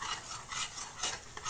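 A spoon stirs and scrapes chicken kofta curry in a pan, with soft sizzling frying underneath and brief clinks of metal against the pan, close and fairly quiet.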